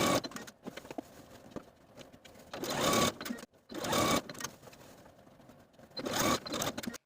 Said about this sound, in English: And as I sew, I'm going to pull the elastic slightly just so that the fabric I'm sewing is nice and flat and straight.